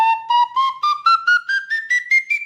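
A Sicilian reed flute (friscalettu) plays an ascending scale of about eleven short, separate notes, each a little higher than the last, reedy, clear and close.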